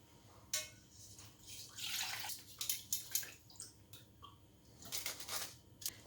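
Mint-infused cream is strained in a kitchen with quiet splashes, trickles and dripping. Light clinks of utensils come in irregular bursts, close and soft.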